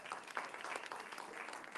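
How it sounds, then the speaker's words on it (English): Faint, brief applause from an audience at a talk in a Caribbean museum, a short patter of claps with no voices over it. "Let's give a big, big, big round of applause to Dr."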